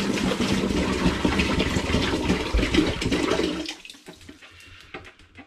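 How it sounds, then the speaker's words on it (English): Five litres of spring water pours steadily and loudly into a plastic fermentation bin standing in a sink, a full gushing splash that stops abruptly partway through, leaving faint drips and quiet handling. "I'm going to begin by adding some spring water."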